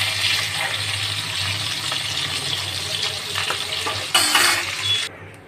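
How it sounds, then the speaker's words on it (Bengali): Fish frying in mustard oil in a pan, a continuous bright sizzle with occasional stirring and clatter, briefly louder near the end before cutting off. "মাছগুলো দেখো আমার সমস্ত ভাজা হয়ে গেছে, হালকা হালকা করে এপিট ওপিট করে তুলে নিয়েছি"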